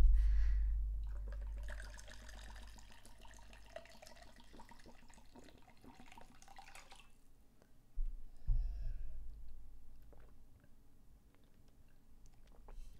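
Water runs and pours indoors, a soft, uneven splashing and trickling that rises again partway through, fairly faint throughout, with low rumbling beneath.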